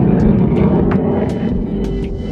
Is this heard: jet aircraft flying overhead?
yes